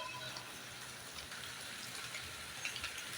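Rain falls steadily outside a brick-testing laboratory at a university construction project in Sheikhupura, a soft continuous hiss of drops with faint patters, fairly quiet and distant throughout.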